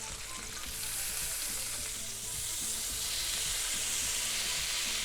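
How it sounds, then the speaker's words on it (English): Lemon slices and lemon juice sizzle loudly in a pan alongside veal scaloppine, a dense continuous frying hiss that holds steady throughout with a low rhythmic rumble underneath and no talking. "Now we add a couple of lemon slices and the juice of half a lemon."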